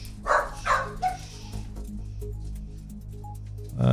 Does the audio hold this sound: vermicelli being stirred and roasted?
no